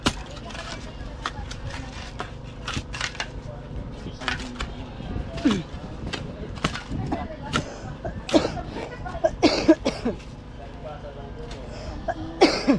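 A person coughing and clearing their throat several times, close by, beside the digging of a septic tank for a house toilet, with scattered clanks and other voices nearby.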